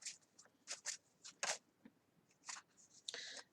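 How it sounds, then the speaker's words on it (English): Quiet, close-up papery riffles and flicks of tarot cards being shuffled, coming in irregular bursts with short pauses between them. "So I guess I'm going to shuffle out another card."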